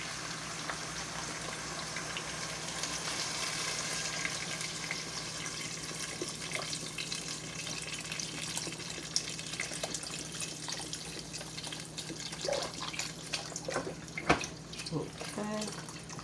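Chicken stock pours from a 32-ounce carton into a soup pot as a continuous soft liquid gush, faint and steady, with a cook speaking over it.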